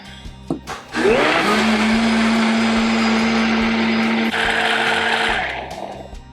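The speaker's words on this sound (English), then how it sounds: "We have all of our ingredients in, and now all we have to do is blend." A countertop blender whirs loudly through oat pancake batter, starting after a few clicks and running at a steady high pitch for several seconds before winding down, with no talking.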